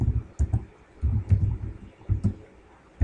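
Keys on a computer keyboard are typed while resetting a root password in Ubuntu, with short bursts of soft, close clicks and dull taps separated by brief pauses.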